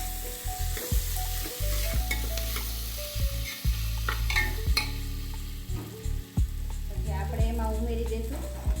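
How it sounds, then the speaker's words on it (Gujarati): Mixed vegetables including carrot and tomato frying for Gujarati khichdi, stirred in a pan with loud continuous sizzling and repeated close scraping, clattering strokes. "આ બધું જ વેજીટેબલ આપણે મિક્સ કરી દઈએ."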